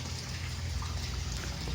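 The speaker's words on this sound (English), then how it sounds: "Nice waterfall off the spa." Water spills steadily from a spa waterfall into a backyard pool at a Florida home, a constant even rush with no breaks for the whole short stretch.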